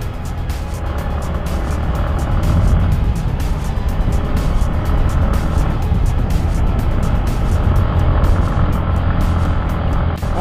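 A motorcycle rides along a rural road in Lebak, Banten, Indonesia, giving a steady, loud engine and road drone throughout with no talk.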